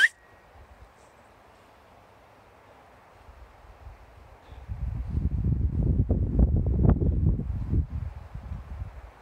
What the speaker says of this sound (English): The wind is blowing out here